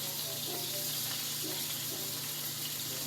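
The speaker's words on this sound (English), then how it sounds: "Saute everything until the onions are translucent and beginning to brown" Onions and ground meat sautéing in a pan for baked ziti, a steady close sizzle and hiss throughout with faint stirring sounds, no talk.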